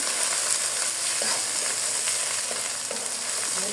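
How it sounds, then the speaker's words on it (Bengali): Spice paste frying in a pan, a steady dense sizzle with faint stirring scrapes, close and continuous with no talking. "দিয়ে এখন মশলাটাকে ভালো করে কষিয়ে নেবো"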